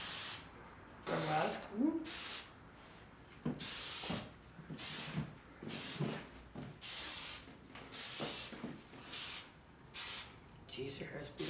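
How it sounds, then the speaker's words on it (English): Weightless hairspray hisses onto pinned hair in a series of short, sharp bursts with brief pauses between them, close to the microphone, while a voice talks quietly between sprays. "We're going to give it a little spray with some weightless hairspray."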